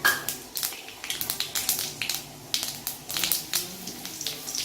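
Mustard seeds and urad dal sizzle in hot oil for tempering, a dense crackle of sharp pops and spits at close range with no talking.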